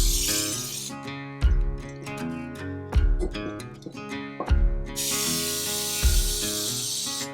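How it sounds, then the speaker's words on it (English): Devil's Juice brake cleaner sprays onto motorcycle parts in two hissing bursts, one at the start and a longer one near the end, over steady background music with punchy beats. "Top it off with a little Devil's Juice brake clean."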